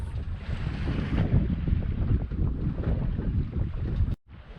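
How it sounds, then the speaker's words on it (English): A sailboat running under wind off the coast of Costa Rica, with rushing wind buffeting the microphone and water washing along the hull, steady and fairly loud before cutting off abruptly near the end. "we've just been sailing and sailing and sailing for like 30 nautical miles"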